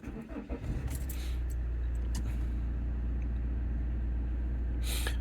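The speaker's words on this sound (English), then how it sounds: "Now I'm going to go for a crank" Car engine cranking briefly with a few rough, irregular turns before catching and settling into a steady, loud idle hum close by, with a short bright burst near the end.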